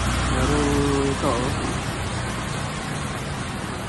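Steady rain patters and hisses throughout, with a brief voice or tone near the start, then the downpour continues evenly.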